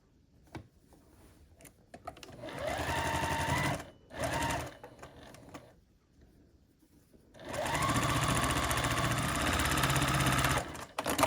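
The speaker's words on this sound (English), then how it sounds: "after we sew those columns together, you get to this point and you can take a look at your block" Sewing machine stitching columns of a scrappy sampler quilt block together, with two long close bursts of fast rhythmic whirring separated by short pauses and a brief run in between, with no talking.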